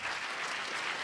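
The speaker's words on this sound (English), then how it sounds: "I hope that you give a warm round of applause for James" Audience applause for a panel of debaters wrapping up a debate on critical race theory, a dense, steady wash of many hands clapping at once, loud and continuous throughout.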